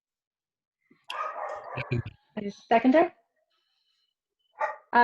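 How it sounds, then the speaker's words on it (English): Dogs bark in a meeting participant's home, heard over a remote council-meeting connection as a few short bursts of barking and yipping mixed in with people talking. "If whoever has dogs barking, can you mute?"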